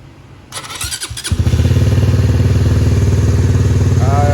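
A Yamaha RS150 motorcycle engine, freshly rebuilt with a new head block, cranks briefly with a few clattering turns, then catches and settles into a loud, rapid, steady two-stroke idle close by.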